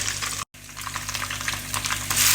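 Garlic sautéing in a hot pan gives a steady, loud crackling sizzle that continues throughout, broken only by a brief cut in the middle.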